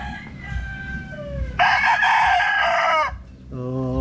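A sweater gamefowl rooster, medium-high in build, crows loudly and close by in a long harmonic call, with clucks and softer calls before and after it and no talk over it.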